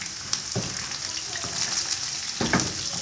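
Chicken pieces for chicken Manchurian frying in hot oil, giving a steady bubbling sizzle with a few soft knocks and stirs over it, close up and continuous, with no talking.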